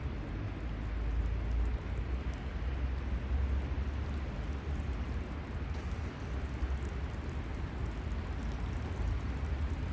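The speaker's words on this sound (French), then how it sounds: "Il commence à pleuvoir fort." Heavy rain pours steadily and loudly outdoors beside an ice-cold bath, a dense, unbroken wash of noise that continues without pause and with no voices.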